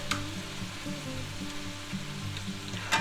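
Sausage, hot peppers and onions fry in a pan with a steady close sizzle running through the whole stretch, a faint clink near the end and no talking.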